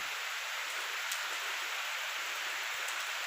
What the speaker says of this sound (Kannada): ಮಳೆ ಬಂತು ನೋಡಿ